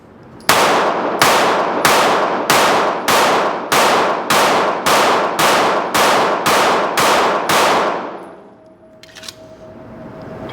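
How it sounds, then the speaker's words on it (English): A custom-built pistol fires about thirteen shots in a fast, steady string, each crack loud and close with a short ringing tail, then the shooting stops and a quiet hum remains. "And of course, it shoots fantastic."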